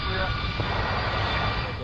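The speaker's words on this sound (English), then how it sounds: "as the plane descended over the city" A Polish Boeing 767 jet descends for an emergency landing without landing gear, a loud, steady, broad engine roar filling the whole stretch, with muffled voices faintly beneath it.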